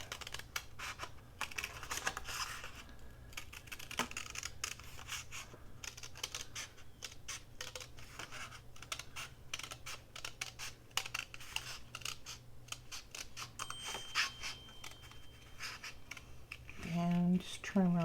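Scissors snip and trim around a cardboard cover cut from a Kleenex tissue box, a steady run of short crisp cuts and paper rustles with a louder crunch of handling near the end.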